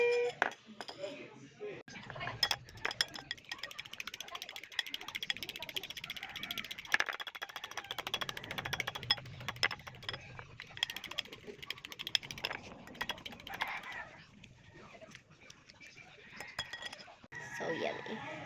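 Utensils clink and scrape against a bowl while food is stirred, a steady run of small clattering taps under ongoing talk in a home kitchen.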